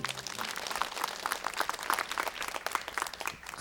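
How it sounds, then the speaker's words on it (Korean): A television studio audience claps steadily in a busy, fairly quiet patter of many hands, with faint voices murmuring underneath. "여러 박수 한번 전해주세요"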